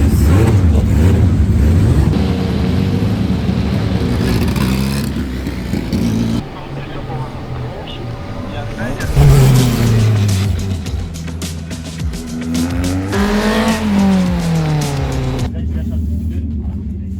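Cars at a high school student vehicle competition starting up and revving, loud close engine roars with rising and falling pitch sweeps as one pulls away, with people talking over them throughout.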